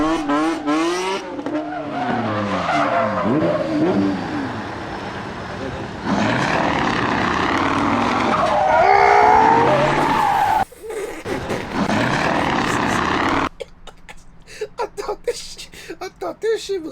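A drifting truck skids with squealing tires and a loud, rasping engine exhaust, the roar rising and falling through long slides, while a voice talks over the sound.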